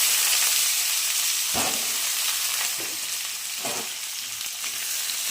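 Sliced onions fry in hot oil with cumin in a pan, a steady loud sizzle throughout, broken by a few soft scrapes and thuds of stirring.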